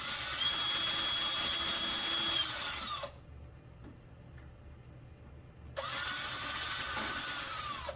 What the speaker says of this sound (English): All right, those are all drilled out.